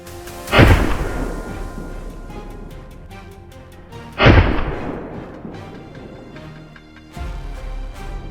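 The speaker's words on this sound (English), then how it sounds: "a volley of gunshots rang out" Two heavy, booming gunshots from hunters firing at wild boars, a few seconds apart, echo across open ground, each decaying into a long rolling reverberation, followed by a duller thud.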